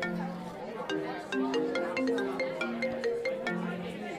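A mobile phone rings with a melodic ringtone in a short film scene, a repeating sequence of bright electronic notes held steadily over low background noise.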